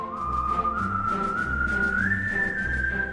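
Someone whistles a slow, sustained melody, a clear steady tone that rises gently in pitch, heard alone with a soft background hum.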